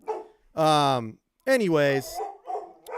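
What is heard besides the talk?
dog barking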